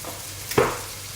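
Garlic hitting a hot pan, a quiet background hiss that flares into a short, loud sizzle burst midway and then fades gradually.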